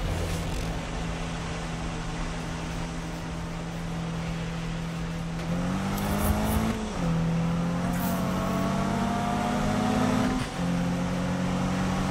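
A car accelerating in the racing game Need For Speed (2015), its engine holding a steady drone that climbs in pitch through repeated gear shifts, loud and close with no one talking.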